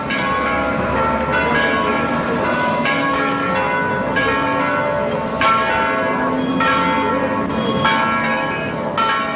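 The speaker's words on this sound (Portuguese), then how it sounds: "O sino você ouve" A church bell in the Santana district of São Paulo rings out loudly with long resonant tones that overlap and linger, accompanied by a faint background hum.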